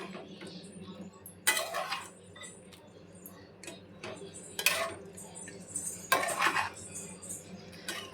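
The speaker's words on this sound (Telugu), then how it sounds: "ఇవన్నీ యాడ్ చేసుకున్న తర్వాత మిక్స్ చేసుకోవాలన్నమాట." Chicken curry ingredients are stirred in a pot, producing intermittent scraping and clinks of a utensil against metal, fairly quiet and close, in irregular bursts with no speech.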